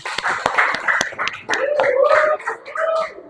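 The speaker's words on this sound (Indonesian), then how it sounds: "tepuk tangan dong buat Alesa." A classroom of children claps hands for a classmate during a lesson, giving irregular sharp claps mixed with chatter and talking voices.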